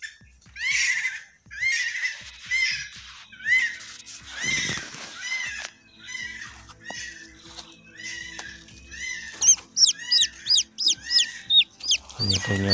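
Green junglefowl hen and chicks at a nest in the forest give repeated clucks and a run of high, rapid peeping calls, close and clear, with faint rustling between.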